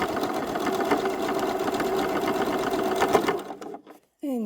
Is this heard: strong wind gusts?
no